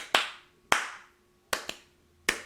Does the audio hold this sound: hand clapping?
yes